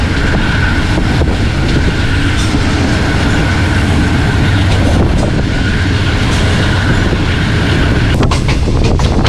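Shah Hussain Express passenger train heard from on board, a loud continuous roar of wheels and carriage with steady rumble, wind buffeting and occasional clicks, no voices.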